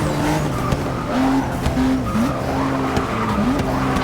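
Race car in Forza Motosport 6 on Xbox One running over a kerb, its engine roaring loud and steady while tires squeal and the pitch dips and rises as the car shifts and corners.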